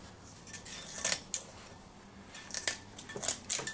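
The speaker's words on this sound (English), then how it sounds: "I just cut it with scissors." Scissors cut through a Kaowool ceramic fiber blanket, giving several quiet, crisp snips and clicks spaced irregularly against a hushed background.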